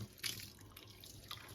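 Dishes being washed under a running kitchen tap, with steady faint water flow and a few soft splashes and clinks, no voices.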